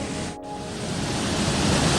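The waterfall at West Creek Falls in Rocky Mountain National Park sounds as a steady, dense roar of rushing water that fills the clip without pause and grows slightly louder toward the end.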